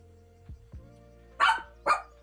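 A dog barks twice in quick succession, loud and close, after a couple of soft thumps, during a home drawing stream with no talk over it.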